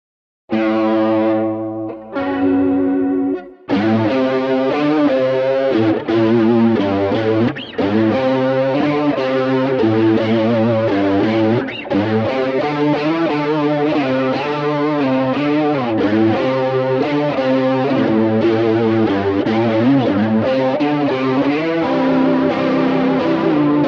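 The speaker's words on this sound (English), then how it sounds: "Now we're going to set it on a faux Leslie sound." An electric guitar runs through a faux Leslie rotary speaker effect, giving the distorted chords a swirling, warbling wobble as they ring out loudly and continuously after a few brief opening strums.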